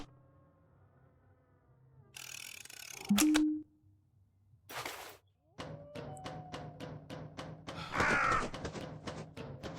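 Crow caws in an indie horror video game: a few sharp caws cut through a quiet eerie ambience, with thuds and rapid clicking bursts around them.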